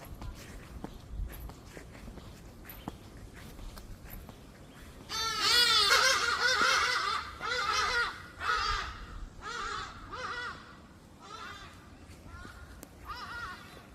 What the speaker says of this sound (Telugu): ఇక్కడేమో పెద్ద కొంగల్లాగా అదొక రకమైన బర్డ్స్ మాట పెద్దవి సో ఇలా అరుస్తుంటాయి